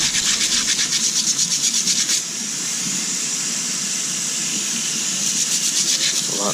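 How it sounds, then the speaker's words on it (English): A soft wire brush and sandpaper scrub hard at a rusty old relic knife, giving steady, close rhythmic rasping strokes that pause briefly and then resume. "a soft wire brush and sandpaper, I think I can get all this off."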